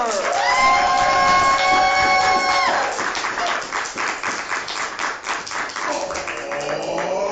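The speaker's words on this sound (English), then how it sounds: "Clap for your world famous podcast champs" Live comedy podcast show crowd at a Chicago nerd comedy festival clapping and cheering, rising after a sustained tone at the start, a sharp rhythmic burst of applause that stays moderately loud to the end.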